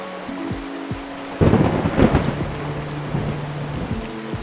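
Heavy monsoon rain pours down steadily while thunder cracks and rumbles loudly, with a big burst partway through and lower rolling booms fading afterward; no voices.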